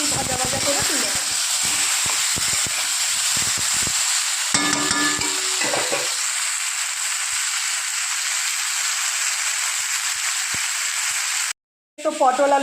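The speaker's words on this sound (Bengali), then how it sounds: "তো পটল আলু ভাজছি" Pointed gourd and potatoes frying in oil give a steady, dense sizzle and hiss that runs almost without a break. A short clatter comes near the middle, and the sound cuts out briefly near the end.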